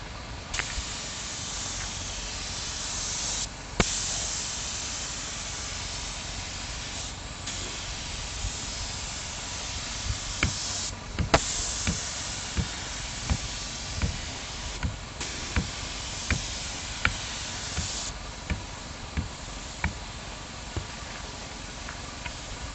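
A spray gun lays down a second coat of clear paint on a C4 Corvette door and mirror, a continuous close hiss in long passes broken by short pauses and faint clicks of the trigger.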